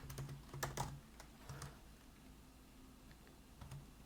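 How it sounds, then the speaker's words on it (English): Keystrokes on a computer keyboard as a prompt is typed, a quiet scatter of soft clicks bunched in short bursts near the start and again briefly later, close and alone with no talking. "So for the prompt, I'm simply going to type in"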